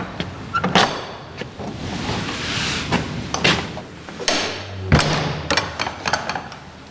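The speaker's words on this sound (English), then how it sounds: "That is a heavy door, isn't it?" A heavy old wooden door into a historic chapel chamber creaks and thuds as it is pushed open, with scraping, knocks of the latch and a solid low bump near the end, close and fairly loud.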